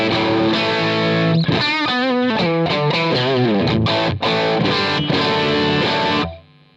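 Overdriven electric guitar riffing through a Marshall Super Lead amp with a NUX Morningstar Bluesbreaker-clone overdrive pedal, crunchy and sustained, with chords and single-note runs played loud and close before ringing out.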